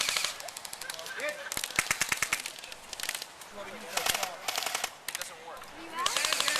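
Airsoft guns firing at an outdoor skirmish, repeated rapid bursts of sharp plastic-sounding clicks, near and far, with birds and players shouting in between.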